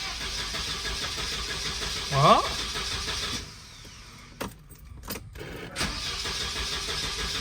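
A Volvo 242 Turbo's starter cranks without the engine catching, a grinding whir under a steady background hum, followed by a few sharp clicks and clunks; a voice speaks briefly.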